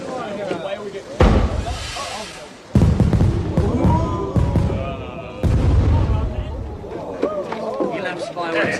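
Fireworks go off in several loud booms and crackling bursts, spaced a second or two apart, with people talking over them throughout.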